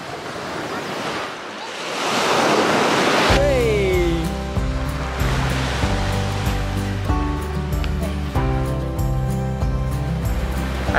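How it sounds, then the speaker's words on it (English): Ocean surf washes into a secluded cove beach on Devon's Jurassic Coast, a broad rushing roar of breaking waves that swells loudly, then continues beneath steady music that enters partway through. "Let's see if we can get any waves."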